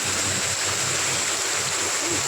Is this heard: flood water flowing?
yes